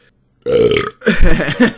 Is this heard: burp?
yes